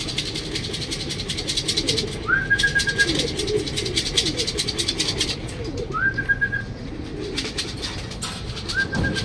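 Racing pigeons at a club training release in Luisiana, Laguna, heard amid a dense, clattering outdoor din, with a few brief rising calls cutting through at intervals and no talking.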